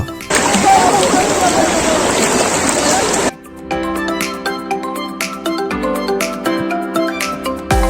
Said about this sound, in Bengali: পাথরের উপর দিয়ে প্রবল বেগে বয়ে চলা ধলাইয়ের কলকল শব্দে